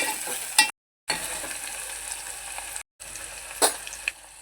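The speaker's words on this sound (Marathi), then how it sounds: "जिरं हे टाकूया दालचिनी त्याच्यामध्ये मी मस्त परतूया जरा" Cumin seeds and cinnamon sautéing in a pan for spicy misal, a steady hiss of sizzling oil broken by a few sharp spatula scrapes and clicks, fairly close, with brief silent cuts.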